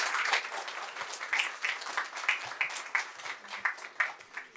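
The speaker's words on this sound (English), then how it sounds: "let's give a huge round of applause for Petteri." Audience applause for a speaker at a community breakfast event on raising pre-seed and seed funding, a steady patter of many hands clapping at moderate distance, alone without talk.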